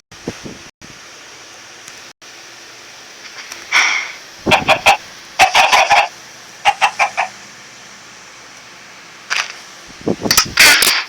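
Minecraft chickens cluck in short, sharp bursts, several quick clusters separated by gaps, sounding crisp and somewhat synthetic, with occasional clicks between.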